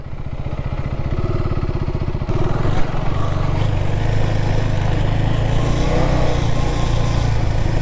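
A motorcycle engine runs loud and close with a steady, rough drone as the bike creeps slowly through sand near a river barrage. The pitch shifts and strains as the rider works through the soft ground.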